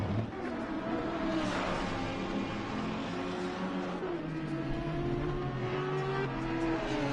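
Several race cars circle Paul Ricard in Assetto Corsa Competizione, engines droning and shifting pitch through gears in overlapping close whines, a continuous loud roar with faint tire noise.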